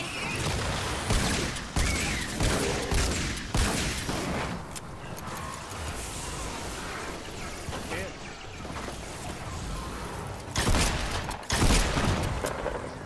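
Grenade blast and bursts of gunfire from a Fortnite Save the World storm shield defence match, loud broadband crashes clustered near the start and again near the end, with players talking over the combat.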